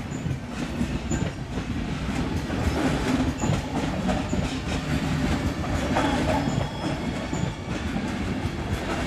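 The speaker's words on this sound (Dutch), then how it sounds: "Gaat deze 460 vertrekken, zonder nummer op de front" Swiss SBB Re 460 electric locomotive hauling a train as it departs, a steady close rumble of wheels and rail noise with faint clicking over the joints, carrying on without a break and with no talk.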